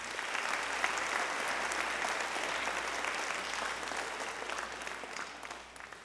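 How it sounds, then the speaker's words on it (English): An audience at a junior high school spring band concert applauds school staff, with steady, full clapping from a large hall crowd that fades slightly toward the end. "So give those folks a round of applause as well."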